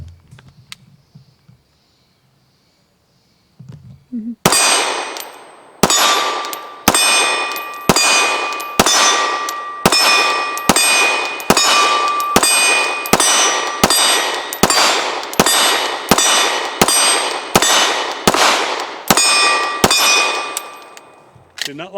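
A Canik TP9 DA pistol fires a long, rapid string of 115 grain rounds at steel targets, each loud crack followed by a ringing metallic clang, coming in a steady rhythm after a short quiet start.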